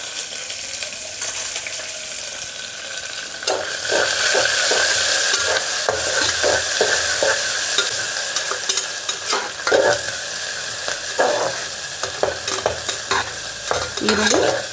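Sliced onions fry for vegetable biryani, at first in a faint sizzle and then in a loud, constant crackle once stirring starts, with repeated scrapes and clatter from the spoon against the pan.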